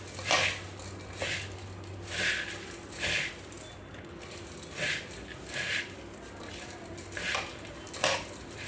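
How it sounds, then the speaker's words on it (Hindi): Spiced puffed rice for jhal muri is mixed in a bowl with a spoon, giving repeated clinking, scraping strokes in an irregular rhythm, close and moderately loud, with no talk. "अब इसको मैं मिक्स कर दूँगी।"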